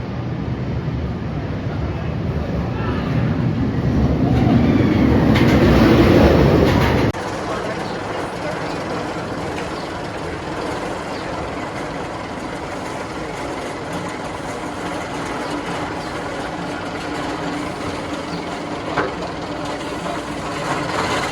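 Steel Vengeance roller coaster at Cedar Point on a ride: a loud, roaring rumble of the train on the track for about seven seconds, then a steadier, quieter rushing noise with no clear talk.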